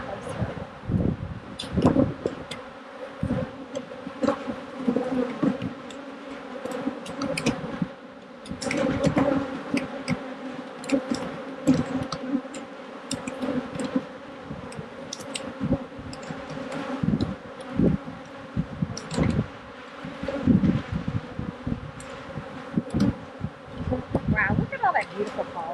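Honeybees swarm and buzz around an open hive during a spring split, a dense, close drone rising and falling in waves, with a faint voice now and then underneath.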